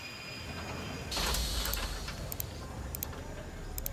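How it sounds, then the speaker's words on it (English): A train pulls in within a video game, a broad mechanical rush with hissing that swells briefly, then settles into a steady rumble broken by a few sharp high clicks and chimes, fairly quiet overall. "train's here"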